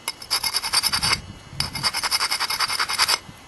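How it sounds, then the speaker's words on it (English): The platform edge of a flint blade is ground by rubbing it against an abrasive before pressure flaking with an Ishi stick: rapid rhythmic rasping strokes in two close bursts separated by a brief pause, with no talking. "Platform needs a little grinding."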